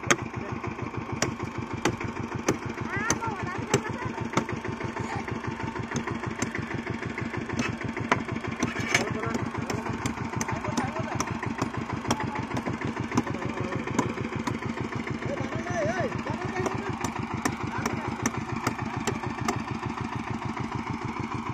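A power tiller or tractor engine idles nearby with a steady, rapid chugging pulse that holds even and fairly loud throughout, and no talk is heard over it.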